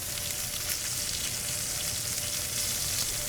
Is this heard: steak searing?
yes